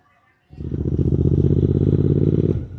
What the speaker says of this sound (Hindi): अब हम बाइक पे निकले ही हैं